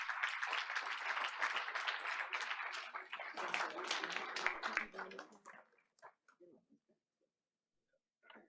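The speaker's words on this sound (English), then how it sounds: "Let's give her a round of applause." People at a school board of education meeting clap for an honoured staff member, a fairly close burst of applause with voices mixed in that thins out to scattered claps and fades to near silence.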